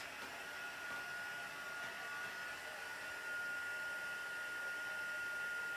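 A heat embossing tool blows hot air over an inked, stamped card, producing a steady, even whooshing hiss that continues unbroken at close range.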